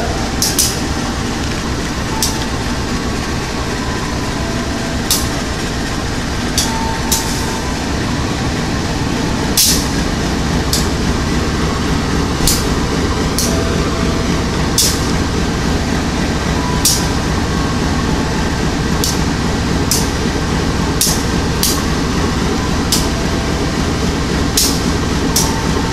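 A CC 203 locomotive hauls the Singasari train out of Tanah Abang station. A heavy, continuous rumble of engine and rolling cars carries throughout, with sharp metallic clanks and squeaks recurring every few seconds.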